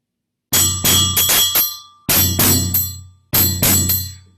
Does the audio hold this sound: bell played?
yes